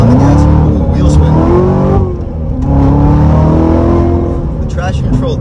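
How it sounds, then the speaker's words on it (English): A car breaks into wheel spin under hard acceleration with traction control working. The engine drone climbs and dips in pitch as it revs, loud and close throughout. "On the gas, ooh, wheel spin."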